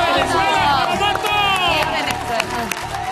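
A studio audience on a Spanish-language TV competition show claps and cheers, a loud steady burst of applause with whoops, while music plays along underneath.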